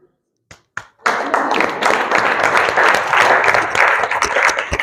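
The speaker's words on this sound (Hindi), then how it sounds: "इनके लिए एक बार ताली हो जाए बच्चों के लिए" Audience applause for student winners at a Bihar Board interview session: a few scattered claps first, then steady, dense clapping that swells and carries on loudly.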